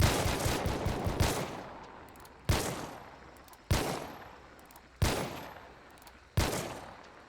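Lamat rifle with a trait that boosts its fire rate by 81% in Hunt: Showdown, firing a quick rapid cluster of shots and then four single sharp reports, each trailing off in a long echoing decay.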